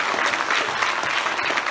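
Steady, full applause from a church congregation at a midweek service, many hands clapping together in a dense continuous wash at moderate loudness, with faint crowd murmur and no clear speech.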